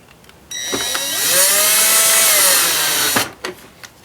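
A power drill whirs for about three seconds while driving screws, its motor winding up, holding a steady pitch, then dropping off, with faint clicks before and after.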